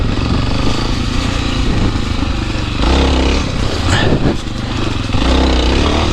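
A Suzuki DR650 motorcycle ridden along a messy single-track dirt trail, its loud single-cylinder engine roaring steadily close by, with throttle surges and a brief dip in revs midway.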